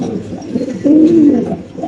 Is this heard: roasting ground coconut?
no